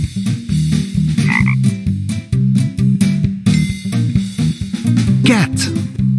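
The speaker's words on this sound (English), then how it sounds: "Frog." Frogs croak in a rapid, rhythmic series of loud, close calls, pulsing without pause.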